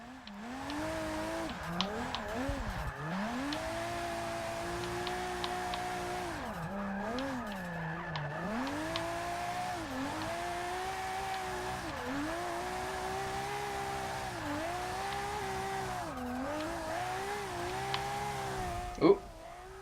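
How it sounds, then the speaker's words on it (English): In the Forza video game, a car of around 500 horsepower drifts with a sustained engine whine that rises and dips as the revs change. Continuous tire squeal runs underneath, and a sharp hit lands near the end. "That was a good drift until I flew off"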